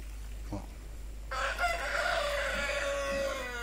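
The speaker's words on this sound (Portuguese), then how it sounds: "Tem o galo também lá." A rooster crows loudly at a farm, one long drawn-out call that starts after a brief cluck and carries on for about two seconds.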